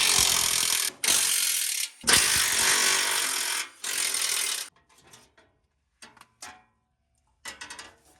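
Ratchet work on the skid plate bolts of a 2015 Ford F-150 5.0: a long, loud, steady rasping burst broken by short gaps, then a run of brief clicks and taps with near-silent pauses between them.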